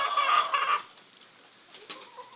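Several chickens cluck in a cold mountain farm coop, a dense burst of close, loud clucking at first that drops to scattered fainter calls and rustling.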